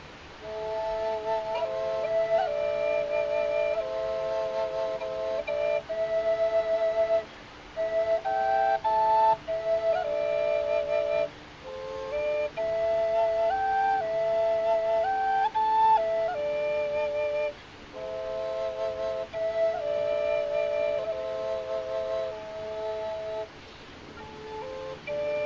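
All three chambers of a rivercane triple drone flute sounding at once, layered steady drones under a wandering breathy melody of held notes with brief breaths between phrases, soft and continuous for about twenty-five seconds.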